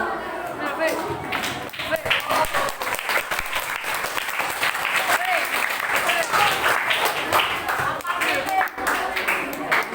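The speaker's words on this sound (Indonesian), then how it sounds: "coba kita tepuk tangan biar nggak ngantuk" Madrasah pupils clapping together in a classroom, a lively, loud and continuous burst of many hands across the whole span, with some chatter underneath.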